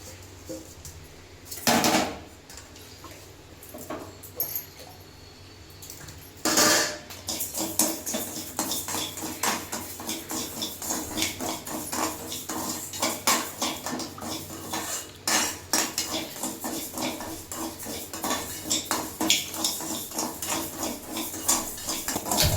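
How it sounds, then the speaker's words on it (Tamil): Rice dry-roasting in a vadai pan, stirred with a metal spoon that clatters and scrapes against the pan in quick, busy strokes, loud and close, with a couple of sharper knocks early on and no voices. "இப்போ அரிசியை வந்து வதக்கி எடுத்துக்கலாம்."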